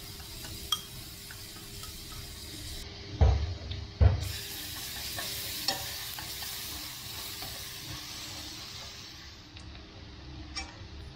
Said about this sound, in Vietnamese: Dầu nóng mình cho hết tỏi băm nhuyễn vào.